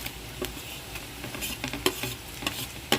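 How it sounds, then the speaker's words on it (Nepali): Chicken frying in a pan with garlic and tomato sizzles steadily while a utensil stirs and scrapes, giving irregular close clinks and scrapes over the constant hiss. "फेरि चलाउँछौँ मजाले।"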